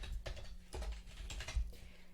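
Computer keyboard typing during data entry in office billing software: bursts of quick, close keystrokes in clusters with brief pauses, clear over a faint steady hum.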